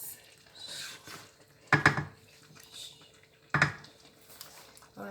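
A spoon stirs egusi soup in a pot, knocking twice against the side with sharp clinks spaced a couple of seconds apart, and faint scraping and bubbling fill the quiet between the knocks.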